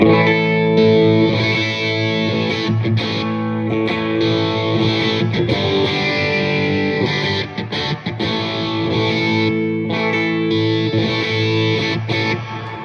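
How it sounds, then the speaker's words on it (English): Electric guitar played through an overdrive pedal, sustained crunchy chords ringing with brief gaps between strums, loud and up close. "that's the sound of that pedal getting switched out in front of channel 1"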